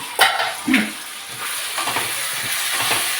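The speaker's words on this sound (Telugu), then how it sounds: "ఇది ఒక దొండకాయ వేగిందేమో చూసుకుందాం ఒకసారి" Ivy gourd (tindora) frying in a pan, a continuous hiss and sizzle with a couple of sharp stirring scrapes near the start, close and moderately loud, no talk.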